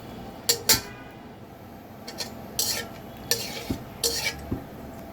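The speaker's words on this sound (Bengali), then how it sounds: "আমার সরিষার তেল গরম হয়ে গেছে, এখন আমি শুকনো মরিচ ফোড়ন দিয়ে নিচ্ছি" Dried red chillies temper in hot mustard oil with a soft, continuous sizzle. Several sharp clinks and scrapes of a utensil against the pan punctuate it.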